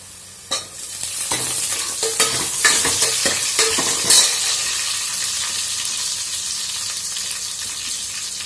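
Ingredients sauté in a pan for Tamil egg curry, a constant frying hiss broken by a quick run of sharp spoon scrapes and clinks against the pan before settling back to an even sizzle.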